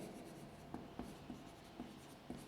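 Pen or marker writing a physics equation on a board, giving soft, faint scratchy strokes with a few sharper taps in an irregular rhythm, close by and without speech.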